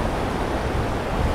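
Ocean surf washes steadily on a sandy beach as the tide comes in, a broad continuous rushing noise with no voices.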